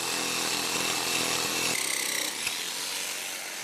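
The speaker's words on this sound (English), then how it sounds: "I'm just gonna jigsaw it out real fast." Jigsaw cutting wood in a basement workshop, a loud, steady buzzing saw that shifts in pitch partway through the cut and runs continuously for several seconds.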